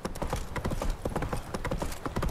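Horse hooves clip-clop steadily in The Witcher 3 video game, a quick, even stream of close hoof strikes on firm ground under faint game ambience.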